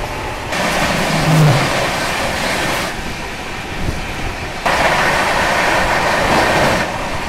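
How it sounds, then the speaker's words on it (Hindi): The 22221 Rajdhani Express running steadily at 130 km/h, a loud continuous roar and rattle of wheels and carriages with surges in intensity as it speeds along. "गाड़ी 130 की रफ्तार में लगातार भाग रही है"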